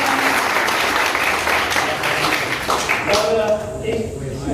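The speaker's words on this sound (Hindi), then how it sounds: "खड़े हो जाए जोरदार तालियां के लिए" Audience applause at a martyrdom anniversary event in Gangoh, a dense crowd clapping loudly and steadily that thins and softens toward the end as a voice begins.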